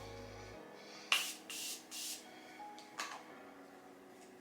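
Setting spray misted over makeup on a face, several short hissing bursts from a pump bottle in quick succession, close and fairly quiet, with a faint soft rub afterward.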